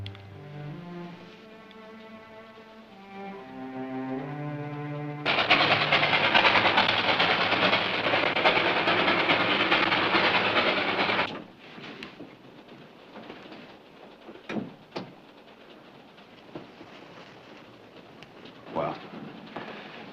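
A train runs on its rails as a loud, broad rushing roar that swells in after calm music and holds for several seconds, then drops to faint rattles and scattered clanks.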